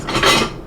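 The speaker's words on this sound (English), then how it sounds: "So give it a whisk." Sugar being whisked in a pan over low heat, a brief close scraping and clinking of the whisk against the metal, with no talk.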